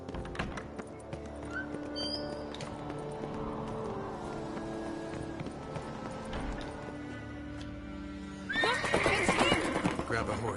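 Horse in The Witcher 3: Blood and Wine, with clip-clopping hooves and a sharp whinny bursting out near the end over a low game ambience and music, while voices talk.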